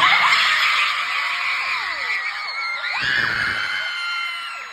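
At a Versus tour event in Maryland, a crowd screams loudly and continuously to vote for a favorite painting, with piercing high voices, whoops and yells that dip briefly before rising again.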